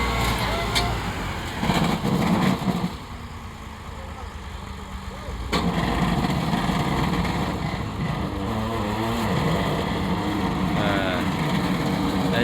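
Two tractors hitched to a loaded trolley labour uphill, their diesel engines droning and revving loudly and unevenly, with people talking over the machinery.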